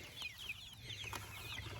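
Several young chickens, including fluffy feather-footed birds, cluck softly and steadily in a garden, with repeated short calls over a low continuous background hum.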